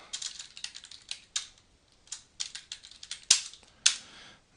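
Keystrokes on a computer keyboard as a folder name is typed, quick bursts of clicks with short pauses and two sharper, louder key hits near the end, close and clear with no talking.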